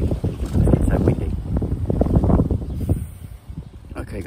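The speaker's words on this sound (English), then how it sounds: "It's so windy." Strong wind buffets the microphone at the bottom of a garden outdoors, loud gusty rumbling that surges and fades for several seconds before easing off near the end.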